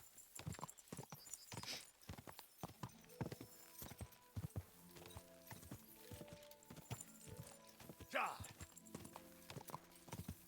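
A horse is ridden in Kingdom Come: Deliverance 2, with brisk, rhythmic clip-clop hoofbeats and a brief whinny layered over game music and faint background sounds.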